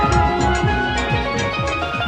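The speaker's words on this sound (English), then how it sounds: "This steel pan." Steel pan playing at the Trinidad carnival opening ceremony, a bright, ringing run of quick melodic notes over a full low accompaniment, loud and continuous, with no talk.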